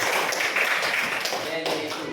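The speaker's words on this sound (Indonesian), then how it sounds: "tepuk tangan untuk Zayu." Classroom applause for a student during an economics lesson, a short burst of dense clapping from a group of pupils, close and fairly loud, fading slightly over about two seconds.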